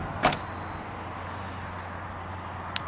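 The power liftgate of a 2019 Chevrolet Tahoe closing: a latch click, a steady low motor hum, then a final sharp click as it shuts.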